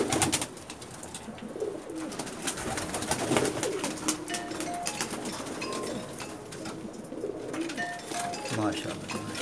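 Banka breed pigeons on a rooftop give soft, scattered coos amid fluttering and clattering noises, while people talk throughout.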